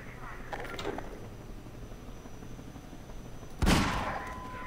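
Gunfire in Half-Life 2: a couple of faint, scattered shots early on, then one louder, sharper burst near the end, with low game rumble underneath.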